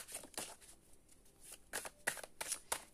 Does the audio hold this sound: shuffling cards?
yes